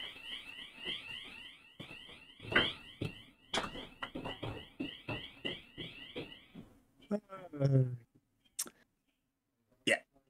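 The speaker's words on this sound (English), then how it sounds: "someone set off the freaking alarm" Repeated electronic alarm tones ring out in the World War II game Partisans 1941, a steady pulsing pattern mixed with footsteps and game sounds before fading into a few sharp isolated noises near the end.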